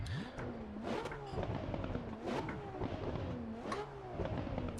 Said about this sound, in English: we are in the Ferrari, so let's see how it sounds